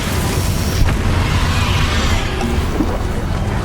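A Confringo spell going off in Hogwarts Legacy, a dense, sustained roaring blast with a rumbling low end that fills the scene loudly and steadily, with no clear speech.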